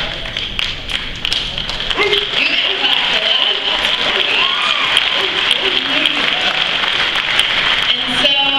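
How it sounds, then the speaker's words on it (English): Audience applause at the GLAAD Media Awards ceremony, a steady wash of clapping sustained for several seconds, with faint voices and cheers mixed in. "You can clap for that."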